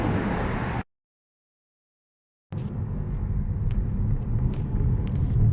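Car tires running over road expansion joints, heard from inside the vehicle: a steady low road rumble with faint irregular knocks, after a short stretch of silence.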